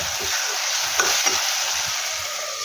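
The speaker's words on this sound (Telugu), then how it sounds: "ఇలా గరిటతోటి ప్రెస్ చేస్తున్నట్లుగా అంటే తొందరగా మ్యాష్ అయిపోతాయి, పేస్ట్ లాగా అయిపోతుంది" Tomatoes frying in oil in a pan for an egg curry, pressed and mashed with a ladle, give a steady close sizzle with a few soft scraping knocks of the ladle.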